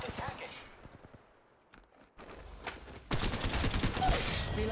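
Rapid gunfire from Apex Legends Mobile in a squad firefight, bursts of shots rattling in quick succession, growing dense and loud in the second half over game noise, with players talking.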